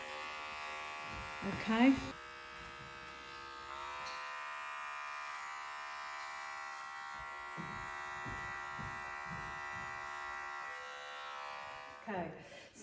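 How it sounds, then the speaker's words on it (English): Electric hair clippers buzz steadily through a child's haircut at close range, a constant motorized hum running under brief bursts of talk at the start and end. "I've done mainly all my clipper work."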